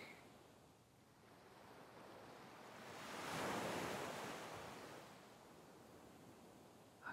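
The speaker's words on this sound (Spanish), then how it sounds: "Y el sonido del mar." Soft sea waves wash onto a beach shore in a steady, faint surf rush that swells into one broader wave in the middle and then eases back.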